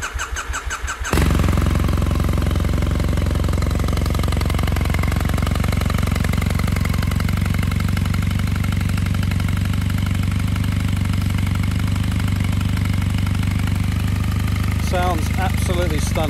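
A 2005 Triumph Bonneville T100 865cc motorcycle on choke in chilly weather fires up on its electric starter after a brief cranking, then settles into a steady, close, even idle with a faint squeal near the end.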